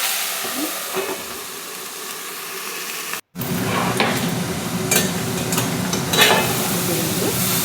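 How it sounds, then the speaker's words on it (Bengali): Water lily stems frying in a pan give a loud, close hiss and sizzle with scraping stirring noises. A sudden short gap splits the clip, and then the sizzle returns stronger and steamier. "শাপলাগুলো এবার দিয়ে দিলাম, এগুলো নাড়াচাড়া করবো।"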